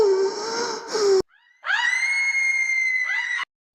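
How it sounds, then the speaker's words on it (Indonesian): Wailing cries turn into screams as a fire spreads through a house in a village. There is one long, loud, strained cry, then a short break, then a higher, piercing scream held for almost two seconds. "suara tangisan berubah menjadi jeritan yang menggema di seluruh desa."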